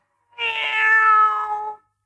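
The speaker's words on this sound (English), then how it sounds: "And that's her cat." A single clear cat meow, drawn out for over a second, close and alone in silence.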